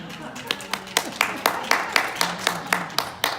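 Audience at a talk clapping in a steady run of distinct, fairly close hand claps, loud and evenly spaced through the whole stretch, with no voice over it.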